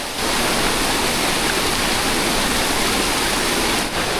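A hidden waterfall in the hills near Murbad roars continuously, a dense broadband rush of falling water that stays loud and steady from start to finish, with no voices.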